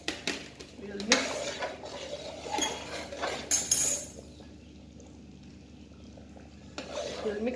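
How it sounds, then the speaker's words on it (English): A spoon clinks and scrapes against a metal pot while stirring chicken and potato curry, giving irregular close metallic knocks and stirring sounds with quieter gaps between them. "We'll mix the curry."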